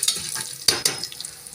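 Curry leaves and snake gourd stirred in hot oil for a kara kuzhambu, giving a quick, close sizzle with a few sharp crackles and scrapes.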